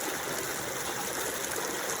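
Stream water pours steadily into a sampling bottle held upstream in a tributary, a continuous close-up rush and gurgle with no pauses and no voices.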